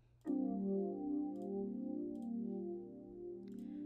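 The Lounge Lizard synthesizer preset Vangelis Opera, played in FL Studio, rings out as a sustained, layered chord with shimmering, slowly shifting overtones, following a sharp onset, with faint clicks scattered over it.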